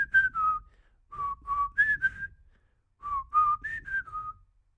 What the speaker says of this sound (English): whistling the first few bars of a song he knew Screambird would know